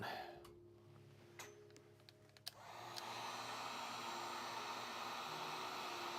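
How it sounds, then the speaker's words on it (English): A heat gun on its high setting blowing hot air at a vinyl model kit, a steady loud hiss and whoosh that switches on partway through after some quiet handling noises. "I'm just going to try blowing on high the hot air into the unventilated piece"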